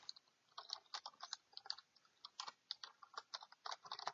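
Rapid clicking of computer keyboard keys while entering VBA code, irregular bursts of close, light keystrokes with brief pauses.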